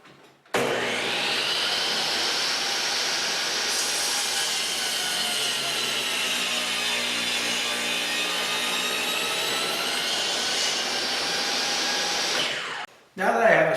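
A saw rips through 3/4 inch plywood to square an edge, a loud, steady, close whining roar sustained for about twelve seconds before spinning down, with a short burst afterward.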